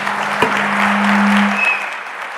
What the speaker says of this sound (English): How about a round of applause for our commercial space panel?